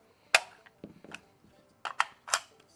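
An AR-15 magazine is seated into the rifle and then dropped with the magazine release during a build. A few sharp metallic clacks and clicks sound up close, separated by quieter handling noises.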